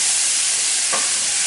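Tofu stir fry sizzles steadily in a pan, a dense close frying hiss with a brief stir of the spatula partway through.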